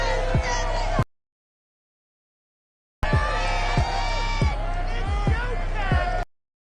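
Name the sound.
crowd cheering in EA Sports football video game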